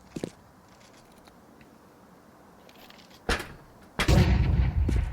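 SMG fire in a Counter-Strike match on the Vertigo map crackles out in sharp bursts, a brief early shot, then a louder burst and a dense, rattling stream of rapid shots near the end over faint background noise.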